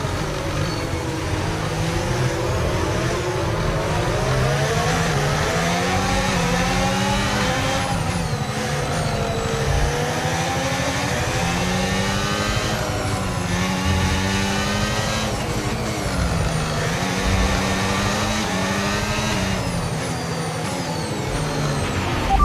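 Red Bull F1 car's worn internal combustion engine in F1 25 howling at high revs on a street circuit, loud and continuous, with pitch sweeping up and down through gear shifts and other cars roaring nearby.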